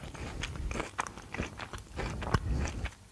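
Up close, Swiss chocolate with crunchy Ovomaltine is chewed steadily, producing a quick series of crisp crackles and crunches with one sharper snap toward the end, with no voices.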